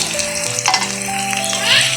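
Loud, steady sizzling of spices, including ginger-garlic paste, cumin and coriander paste and turmeric, frying in hot oil with browned onions, with occasional stirring scrapes throughout.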